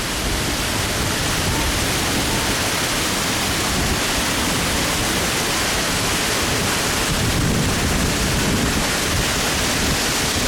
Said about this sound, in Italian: E concludo con la cascata